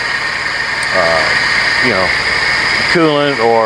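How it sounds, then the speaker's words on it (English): A Mercedes 190E engine with a blown head gasket idles steadily underneath, a low continuous hum, while someone talks over it. "So engine runs pretty smooth, as you can probably hear in the video."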